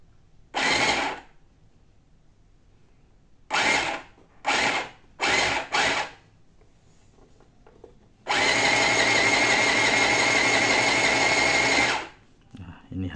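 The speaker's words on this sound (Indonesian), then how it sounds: "kita mulai menjahit dengan mode 1" A 705A electric sewing machine stitching in mode 1, heard as several short loud bursts of rapid whirring followed by one long continuous run of about four seconds.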